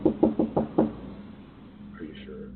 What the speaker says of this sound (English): The man stands there ringing the doorbell and knocking at the door